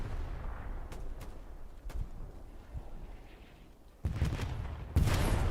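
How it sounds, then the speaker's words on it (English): Commander artillery strike in Hell Let Loose on a night map: distant, faint booms roll in first, then heavy shell impacts land close and loud near the end. "The commander artillery ability will be coming in."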